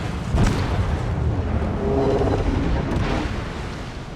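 Ship guns in a naval game battle fire heavy rumbling booms over a constant low roar of engine and sea noise, one sharper blast early and a fainter one near the end.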